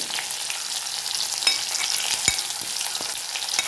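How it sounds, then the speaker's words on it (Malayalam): Mustard seeds and crushed shallots fry in hot oil for a thin-stir-fried jackfruit dish, giving a steady bright sizzle with a few sharp pops and spatters, close and alone. "കടുക് വെട്ടി വന്നാൽ ചെറിയുള്ളി ചതച്ചത്"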